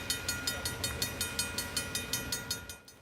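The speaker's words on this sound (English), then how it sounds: "a Via Rail train derailed after it crashed into two transport trucks that were parked" Via Rail passenger train on the tracks, a loud, regular clickety-clack of wheels over rail joints repeating about every fifth of a second, close by and steady, then easing off at the end.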